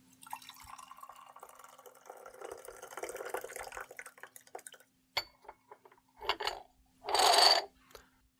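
Tea poured and splashed in a quiet indoor ritual, a light trickle then scattered drips and a louder burst of splashing liquid near the end.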